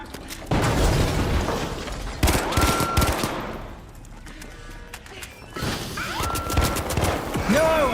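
Rapid gunfire in the video game The Finals, several loud bursts of automatic shots separated by short pauses, with occasional electronic effects between volleys.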